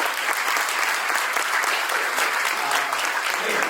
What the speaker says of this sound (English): One more round of applause for Ari.